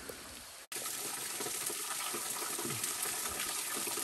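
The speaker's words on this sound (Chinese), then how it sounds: "这个是齐柳瀑布" Qiliu waterfall on Qiliu mountain pours in a steady, dense rush of falling water, close and continuous after a brief cut near the start, with no voices.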